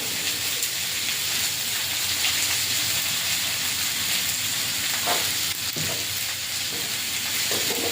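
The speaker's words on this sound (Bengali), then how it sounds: "সবজিটা ভাজা ভাজা করে নেব" Eggplant and potato frying in a pan with salt, chili powder and turmeric make a continuous close sizzle and hiss, with occasional scraping stirs breaking through the steady crackle.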